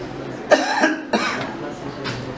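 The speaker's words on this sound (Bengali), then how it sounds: "একটা কাশি দেন তো।" A patient lying down during a surgical clinical examination gives two sharp coughs on request, close and clear, with a fainter third effort near the end over a quiet room background.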